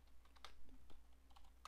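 Brisk typing on a computer keyboard, close up, with scattered key clicks and a few sharper taps over a low steady hum.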